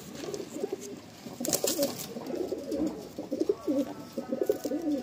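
Madrasi pigeons coo nearby in soft, rolling, repeated throaty calls that overlap one another under faint background noise.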